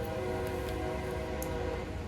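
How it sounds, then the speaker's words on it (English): A train passes late at night, filling the clip with a steady, loud low rumble and a sustained tonal horn blast, with no one talking. "Here comes the train."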